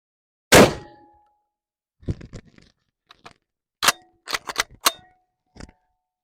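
A Winchester 12 gauge shotgun round fires indoors with one sharp, loud blast that rings and decays, followed by a scatter of lighter metallic clinks and clatter.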